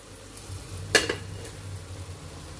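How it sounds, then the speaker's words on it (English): Okra fried in a pot and stirred: a soft, steady sizzle with one sharp scrape or clink of the spoon against the pot partway through, followed by a smaller second one, all fairly quiet. "Then I will stir very well, fry it for 30 minutes as well."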